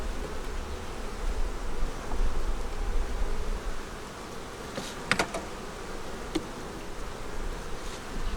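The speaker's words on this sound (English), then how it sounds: "A lot of bees in here." Honey bees in an open hive in cold weather drone in a dense, steady buzz close by, with a few brief knocks and rustles of frames.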